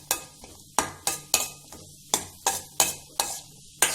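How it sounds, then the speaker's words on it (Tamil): Raisins and cashew nuts roast in a pan, with about ten sharp stirring scrapes and clinks against the pan coming at an uneven rhythm over a faint sizzle. The sound is close and there is no talk. "அப்புறம் கேஷ்யூ நட்ஸ் நல்லா ரோஸ்ட் ஆகணும். அது வரைக்கும் நம்ம கொஞ்சம் நேரத்துக்கு வறுப்போம்."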